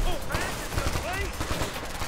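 Rapid gunfire from the Ghost Recon: Future Soldier video game, dense bursts of shots layered with game effects and a voice talking over the fire.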